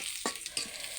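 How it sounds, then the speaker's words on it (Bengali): Chili and onion fry in a pan, a bright continuous sizzle with a couple of short stirring scrapes, close and fairly quiet. "এই যে মরিচ পেঁয়াজ ভাজছি"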